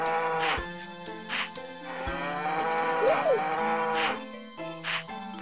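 Cows mooing in the video game Harvest Moon 64, several long low moos in succession over a background of cheerful game music, with a short rising-falling tone in the middle.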